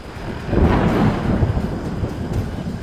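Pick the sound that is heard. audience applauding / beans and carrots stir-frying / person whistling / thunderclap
thunderclap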